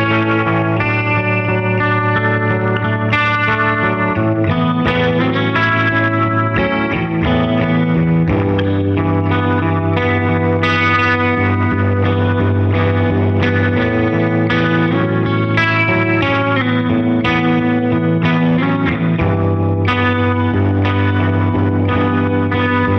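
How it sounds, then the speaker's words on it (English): Distorted electric guitar through a chorus effect in the Softube Amp Room plug-in, a loud sustained riff with a swirling, doubled shimmer and some reverb, continuous and alone for over twenty seconds. "I went into this section and I added a chorus. And we'll add some depth, some speed,"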